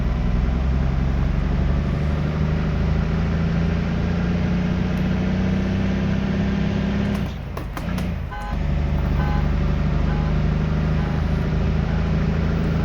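A steady loud truck engine drone fills a session of American Truck Simulator, holding a deep constant rumble with a brief dip and change around a gear shift before resuming.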